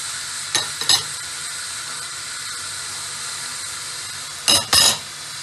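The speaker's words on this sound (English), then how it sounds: "I want it to fry it properly" Curry goat fries in a hot pot with a steady loud sizzle and hiss, broken by a few brief scraping stirs as the meat is turned.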